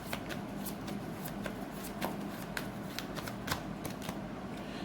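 Tarot cards are shuffled by hand, a fast, continuous riffle of crisp flicks and taps, close and fairly quiet, with no talking over it.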